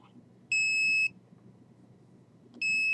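Electronic detector beeping nearby, two short steady high-pitched tones about half a second long, spaced roughly two seconds apart, over faint low background noise.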